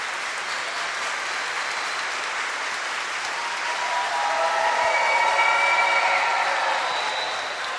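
Applause for a newly married couple at a wedding ceremony: a dense, steady wash of clapping that swells louder midway and holds to the end, heard from within the room with no talk over it.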